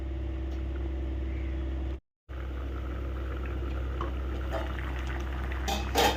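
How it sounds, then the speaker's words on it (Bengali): Fish egg curry simmering on a medium flame, a steady low bubbling rumble with a brief cut in the sound and faint clinks near the end. "আমি কিন্তু মাছের ডিমগুলো দিয়ে দিলাম, দিয়ে এটাকে মিডিয়াম ফ্লেমে একটু ফুটতে দেব"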